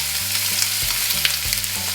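Ground pork sizzling in a hot stainless steel frying pan with avocado oil, a steady close crackling hiss with light stirring scrapes and no voices.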